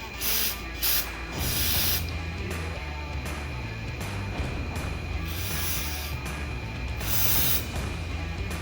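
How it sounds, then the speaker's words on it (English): Spray cleaner blasted into an ATV that has been sitting, clearing gunk: several long hissing bursts of aerosol spray, close and loud, separated by short pauses, over a low mechanical background. "you want to spray in here to get rid of all the gunk"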